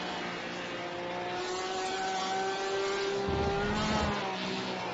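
A Porsche 911 RSR race car engine in a racing video game wails at high revs, holding a steady pitch and then dipping briefly as it shifts, loud and alone with no speech.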